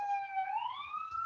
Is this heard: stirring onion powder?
no